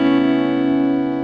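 A single distorted electric guitar chord rings out and sustains evenly, loud and close, with no talking.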